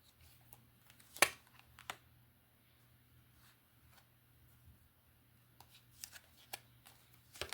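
A 36-card Piotnik oracle deck is shuffled in quiet, close bursts of soft riffling and card clicks, with scattered sharper snaps between stretches of near silence.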